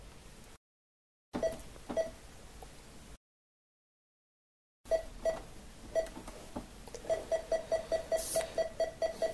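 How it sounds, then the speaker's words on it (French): Short, high quarter-second electronic beeps programmed on a Videopac / Odyssey2 console repeat against a noisy background, first a few scattered ones, then a quick steady run of pulses near the end. "Ce bruit dure un quart de seconde, c'est un petit bip"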